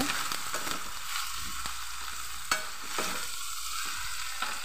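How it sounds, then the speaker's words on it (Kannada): Cut brinjal pieces stirred and fried in oil for a brinjal curry, a steady close sizzle with scraping spoon strokes and a few sharper clinks against the pan, no voices. "ಈಗ ತುಂಡು ಮಾಡಿಟ್ಟ ಬದನೆಯನ್ನು ಹಾಕಿ ಒಂಚೂರು ಮಿಕ್ಸ್ ಮಾಡ್ತೇನೆ."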